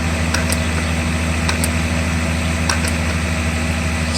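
Engine of a Mercedes 600SL idling, throttle bodies adjusting as the plate is moved, a steady loud low hum with a constant drone and faint high ticks throughout.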